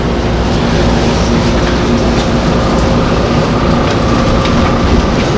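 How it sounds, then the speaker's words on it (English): A train in Japan, near Kamakura, rumbling steadily at close range with a continuous low roar and faint rail noise throughout, no voices. "It's a train in Japan."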